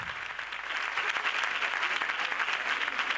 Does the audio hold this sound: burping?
no